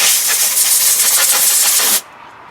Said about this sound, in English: Blow off all the dirt.